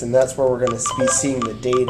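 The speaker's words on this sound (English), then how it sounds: "As you hear, that's the sound of a good read." Short electronic beeps from a DataLogic RFID reader confirm a good read, sounding in brief bursts beneath a man's steady speech.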